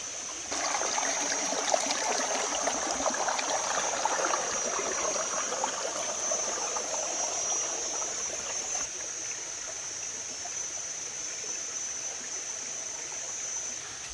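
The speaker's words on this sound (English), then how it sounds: "There's 5 levels to this waterfall." A five-level waterfall in Thailand's nature gives a steady, close rush of falling water, constant throughout with a high insect-like whine above it and no talking.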